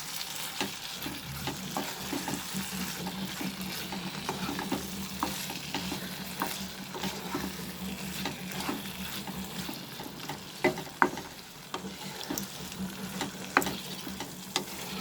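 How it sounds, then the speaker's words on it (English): Mixed vegetables with gravy and spices sautéing over a medium flame while being stirred, a steady soft sizzle with scraping spoon strokes and occasional louder knocks against the pan, close and alone. "Mix and saute this for 2 minutes over medium flame"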